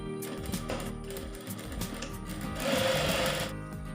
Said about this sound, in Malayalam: ഇനി നമുക്ക് ഇവിടെ നിന്ന് സ്റ്റിച്ച് ചെയ്ത് തുടങ്ങി